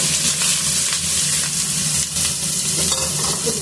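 Onions and green chillies sizzle steadily in hot oil for a Guntur-style fish pulusu, with a loud, continuous frying hiss and occasional stirring scrapes close up.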